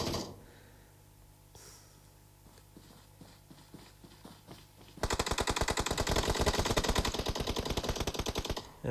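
Scattered shots crack early on, then a sustained burst of rapid automatic gunfire erupts loud and close during a competitive video game scrim match, hammering without pause.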